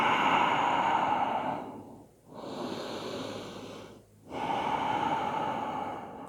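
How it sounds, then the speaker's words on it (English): A slow, deep breath in during a yoga class, drawn audibly through the nose and mouth, followed by a long exhale and a second breath, close and alone with no talking. "Take a deep breath in."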